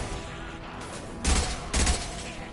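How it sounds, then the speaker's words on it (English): Two heavy, booming bursts from an impact gun in Mass Effect 2, each a short dense blast about half a second apart, rising out of a steady rumbling game background. "Firing an impact gun!"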